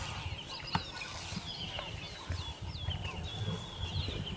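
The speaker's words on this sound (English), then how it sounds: "Plenty of white-browed scrub robins, doves, Cape turtle doves, or ringneck doves, calling all the way down the valley." Cape turtle doves and ringneck doves call through a sunrise valley on an African safari drive, with repeated soft calls under a bright chorus of chirping, whistling songbirds, spread moderately far across the scene.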